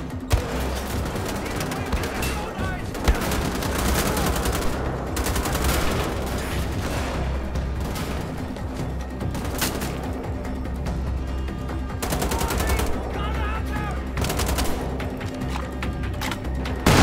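Dense, continuous gunfire from shooting Nazis in the Wolfenstein: The Old Blood video game, with rapid automatic bursts and sharp shots layered over loud game music and effects, sustained throughout.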